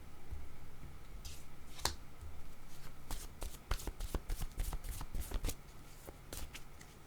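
Tarot cards are shuffled and drawn by hand, with crisp flicking and riffling snaps clustered in a quick burst mid-way, plus softer slides of cards before and after.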